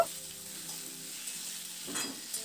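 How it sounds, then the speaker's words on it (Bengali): Sliced tomatoes being fried with potatoes in a pan, a soft sizzle under a few gentle stirring scrapes, close and fairly quiet, with no talking. "এবার টমেটোটা দিয়ে আলুর সঙ্গে মিনিট 2 মতো একটু নাড়াচাড়া করে এটাকে একটু ভেজে নেব।"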